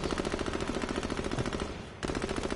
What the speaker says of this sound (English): Yeah, that sniper hit me.